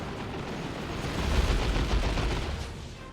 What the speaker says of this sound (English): It was a plasma gun.